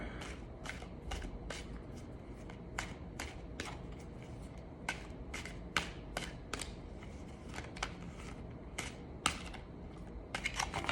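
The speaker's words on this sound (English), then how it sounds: "just one last shuffle here" Tarot cards being shuffled by hand, a quiet series of crisp riffling bursts repeating in quick, irregular succession, close up and with no talking.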